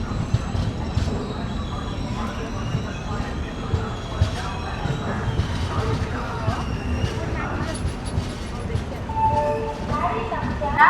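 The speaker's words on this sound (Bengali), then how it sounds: "এই আমাদের ট্রেন এসে পৌঁছালো ব্রহ্মপুর।" A passenger train pulls into Brahmapur station in the rainy season, its rumbling wheels and carriage noise steady throughout with faint squeals and a murmur of voices on the platform.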